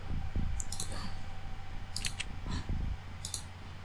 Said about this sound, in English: I love that clicking sound.